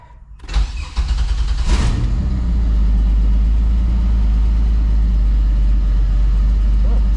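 A supercharged Pontiac Fiero engine with a slight exhaust leak cranks briefly, catches and fires up, then settles into a loud, steady idle close by with no talking.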